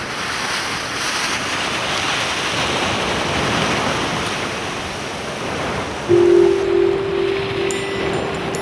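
Rough ocean waves break against coastal volcanic rocks, a loud, continuous roar of surf and spray with wind noise and a brief louder surge near the end, no voices.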